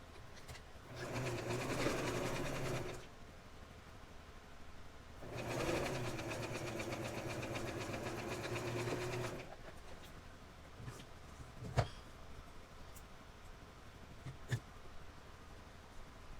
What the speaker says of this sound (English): the final sewing right here on this part is to attach these two together, right side facing right side.